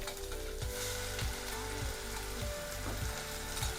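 Mint leaves and coconut fry together in a pan for a quick chutney: a constant loud sizzle with regular scraping strokes of a spoon every half second or so.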